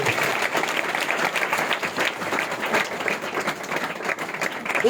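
Loud, continuous applause from a church congregation welcoming a guest at a Christmas gathering, steady clapping from many hands that swells slightly near the end.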